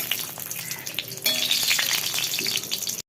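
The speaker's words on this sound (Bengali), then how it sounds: "বড়াটাকে একটু উল্টে দেবো" Malabar spinach leaf fritters fry in hot oil in a pan, a steady close sizzle that grows louder and busier as a fritter is turned over.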